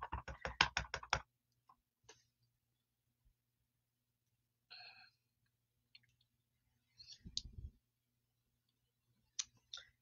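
Rubber stamp pressed onto a paper card during card making, heard as a few sparse taps and soft thumps with a short rustle, faint and separated by quiet gaps.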